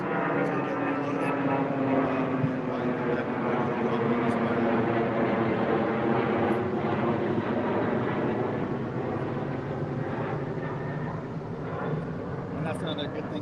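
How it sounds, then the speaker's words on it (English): Firefighting air tanker during the Fairview Fire, a steady droning propeller-engine roar that holds loud and continuous for over ten seconds before easing slightly, with no talk over it. "that tanker will have to go back to San Bernardino tanker base to get reloaded"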